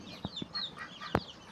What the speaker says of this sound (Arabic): وده البط اللي بيبيض